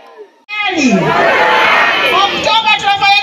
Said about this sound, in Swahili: Vigelegele na makofi